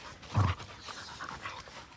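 Dogs panting softly at a campsite at sunrise, a quick close breathy burst followed by fainter, rhythmic breaths.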